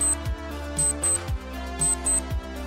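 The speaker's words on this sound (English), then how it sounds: "The default alarm sound" Default GNOME Clocks alarm: a short looping electronic beep pattern with high pulsed tones and low thumping notes, repeating several times in quick rhythmic bursts, loud and close with no talking.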